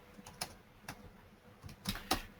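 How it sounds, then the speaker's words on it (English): Keys clatter on a computer keyboard while entering a purchase order in business accounting software, a few sparse, light clicks with short pauses between them and a quick burst of two sharper strokes near the end. "All my typing here."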